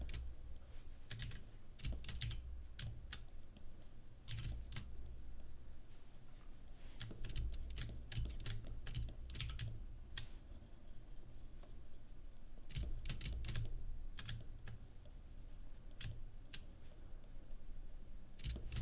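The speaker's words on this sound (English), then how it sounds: "I'm clicking so many times every second." Fast, light clicking from drawing on a computer, a quiet, steady patter of many taps each second that goes on with no talking.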